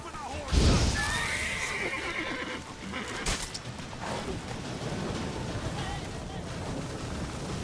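A horse neighs and its hooves clop in The Witcher 3 game, with a whinny near the start over a steady roar of water or surf and game sounds, while a voice speaks nearby.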